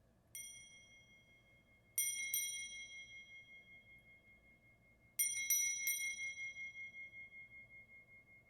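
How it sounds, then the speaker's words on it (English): A small mindfulness bell is struck several times in a quiet room, each bright ring decaying slowly: one strike, then a cluster of two or three, then another cluster of several, all clear and alone. "We'll invite the bell to ring, and just as a little bell of mindfulness to bring us here fully."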